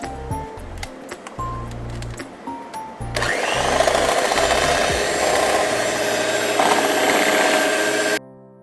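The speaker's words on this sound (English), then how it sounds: "I have taken a 150 watts beater, an electronic beater, and we will beat this on number 2 grade." A 150-watt electric hand beater set to speed 2 whips cream in a bowl, switching on partway through into a loud, steady motor whir with rattling beaters that runs on before cutting off sharply, heard close-up.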